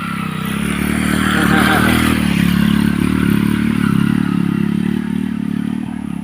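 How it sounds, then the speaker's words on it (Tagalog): A motorcycle passes by on a village road in the upper barrio, its mid-pitched engine swelling loud and close, then steady and fading slightly, with no talk over it. "diyan dadaan yung motor"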